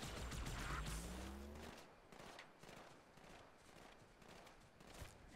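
Gunfire in Halo 2, a faint, rapid stream of shots rattling steadily at a distance. An engine-like drone sits underneath for the first part.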